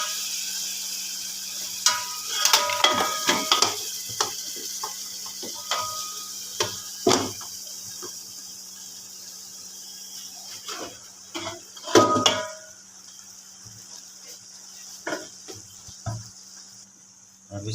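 Boiled rice tipped into thick Hyderabadi chicken biryani gravy in a pot, with soft scraping, clinking of utensils against the pot and a faint sizzle, in scattered bursts over a low steady hum.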